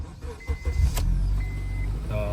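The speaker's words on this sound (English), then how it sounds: "You put your key in the ignition, and we're just going to fire this up." Car engine cranking and catching after an ignition key is turned, a brief starter whir that settles into a steady idle, heard close.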